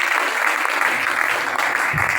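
A church congregation applauds, with dense, steady clapping filling the room at close range, loud throughout, with faint voices mixed in beneath it.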